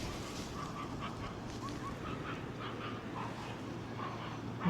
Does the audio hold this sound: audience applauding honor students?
no